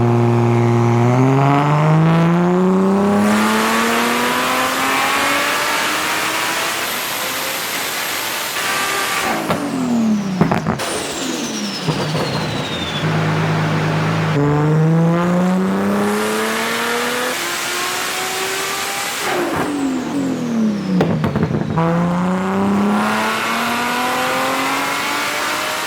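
A stock-motor Toyota Supra making about 900 wheel horsepower on a dyno, revving loudly and repeatedly, with rising engine pulls that climb to a scream and then drop off sharply. The cycle repeats several times, close and loud, with no talk.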